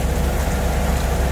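Steady rain pours down on a sailboat heading for anchorage, with a constant broadband hiss and low rumble, continuous and fairly loud throughout.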